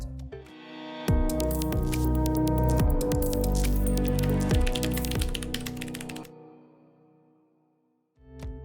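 Typing on a Nuphy Field75, a compact 75% layout mechanical keyboard, gives a dense run of crisp, close key clicks for about five seconds, then stops, leaving near silence.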